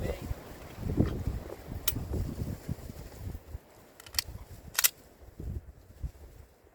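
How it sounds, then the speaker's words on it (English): Strong gusts of wind buffeting a microphone outdoors at a shooting range, producing heavy low rumbling and fluttering throughout, with occasional sharp clicks and knocks from handling the gear. "it's extremely windy, so hopefully this microphone's doing its job"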